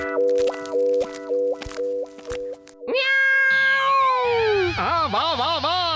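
A cartoon cat from an animated comedy episode lets out stylised meows and wailing, pitch-bending cries, preceded by a string of rhythmic plopping cartoon effects, loud and close with no talk.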